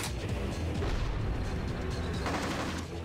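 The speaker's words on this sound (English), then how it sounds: "That's a missile in front of us." Missile explosions and heavy blasts in the cop action game Bad Boys: Miami Takedown, a dense, sustained roar of booming detonations and gunfire-like crackle filling the whole stretch without pause.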